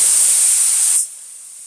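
A loud, sharp hiss of water poured into a hot wok to steam vegetables, steady for about a second before dropping abruptly to a softer steam hiss.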